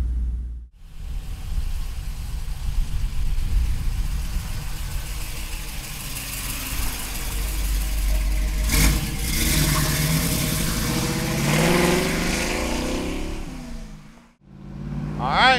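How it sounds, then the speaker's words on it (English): A numbers-matching 1968 Chevrolet Camaro Z idles and revs close by, its exhaust giving a steady deep rumble that swells and fades, with a brief revving burst and a short pause near the end. "Man, I love the exhaust system on this car."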